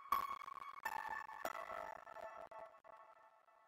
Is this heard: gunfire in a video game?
no